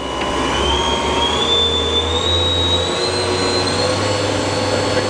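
The spindle of a Doosan four-axis vertical machining center with a CAT 40 taper runs at 4,000 RPM, a loud, steady high whine over a continuous mechanical hum with a slight upward shift in pitch.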